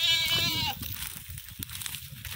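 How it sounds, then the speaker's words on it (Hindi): Barbari goats on a goat farm in Azamgarh, Uttar Pradesh: one loud, wavering bleat up close, followed by quieter farm background noise and faint rustling. "आज आप जो बकरियां लाए हैं उसमें से कुछ बकरियां दिखा दीजिए"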